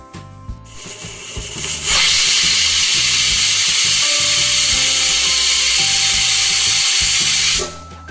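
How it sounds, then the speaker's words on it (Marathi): A pressure cooker of dal lets out a loud, steady steam whistle lasting several seconds. It starts abruptly after a brief lead-in and cuts off sharply near the end, with no talk. "इथे आपल्या कुकरच्या 4 ते 5 शिट्ट्या झालेल्या आहेत."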